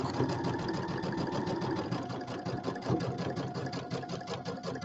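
Pedal-driven sewing machine stitching a St. Patrick's Day settee pillow, a fast close mechanical chatter of needle strokes running steadily throughout with slight speed changes, no talking.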